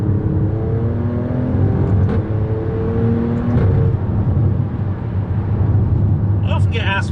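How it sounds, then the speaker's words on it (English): A 2020 Alfa Romeo Stelvio Quadrifoglio V6 drones loudly at steady revs with a harmonic growl, closely recorded from the cabin, with a brief higher burst near the end. "You get a lovely rev match on the way down that just barks that V6 into life, and it sounds magnificent"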